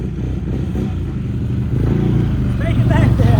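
A four-wheeler ATV engine runs rough on one cylinder, its close, loud uneven putter stumbling and clattering as it revs slightly, with a faint voice near the end.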